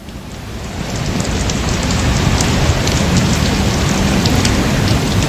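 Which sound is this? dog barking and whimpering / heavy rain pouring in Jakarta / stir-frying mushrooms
heavy rain pouring in Jakarta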